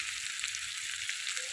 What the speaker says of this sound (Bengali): মাছটা ভালো করে ভাজিয়ে নিই